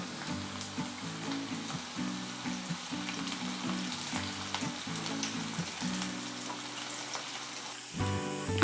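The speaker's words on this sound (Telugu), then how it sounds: "ఆనియన్ ముక్కల్ని గోల్డెన్ బ్రౌన్ కలర్ వచ్చేంత వరకు వేయించుకుందాం." Onion pieces and curry leaves fry in hot oil for a tamarind curry, giving a steady soft sizzle and crackle over faint background music, briefly louder near the end.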